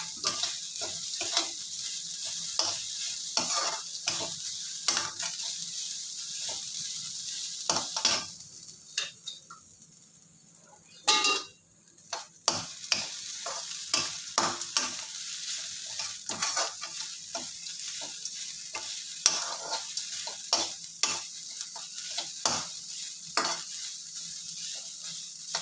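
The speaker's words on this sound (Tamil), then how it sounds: "கொஞ்சம் நல்லா வதக்கிக்கலாம்" Ingredients for lemon rice are stir-fried with salt in a pan: a steady bright sizzle runs throughout, punctuated by frequent scraping and clinking strokes of the spoon against the pan, with no talking.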